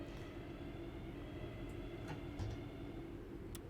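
A train runs along the Glossop Line in Train Sim World 3, a steady low rumble of rolling wheels and motor hum with a few faint clicks, heard alone at a moderate level.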